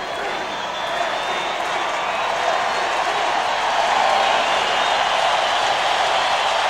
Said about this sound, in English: One last tribute from the crowd.